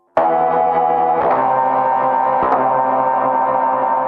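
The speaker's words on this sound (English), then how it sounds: "let's set it to reverb echo" A sustained bass synth note through a GS-201 MKII reverb echo effect rings out with a wide, echoing reverb tail, two more attacks blurring into the lingering wash of sound.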